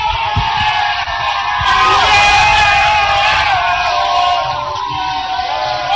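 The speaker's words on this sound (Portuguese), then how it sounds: "Você tá ouvindo aí a torcida do Tigrão que vai chegando" Vila Nova football supporters chant and cheer together in a stadium in Rio de Janeiro: a loud, continuous crowd roar with sung voices and shouts, close and filling the space.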